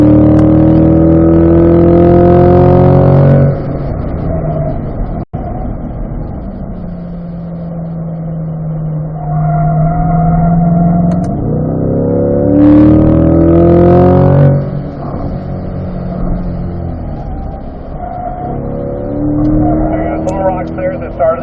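A C8 Corvette's engine runs and rises in pitch as it accelerates on a race track, with harmonic tones climbing and falling, heard under steady talking for much of the clip.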